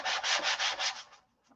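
Sandpaper rubbed by hand over a clear-tinted airplane wing, six quick rhythmic back-and-forth strokes, close and fairly loud, then tapering off into near silence.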